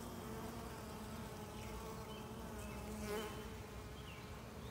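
Honey bees buzzing around an open hive during a spring inspection with foundationless frames, a steady dense drone close by and alone, with individual bees flying past.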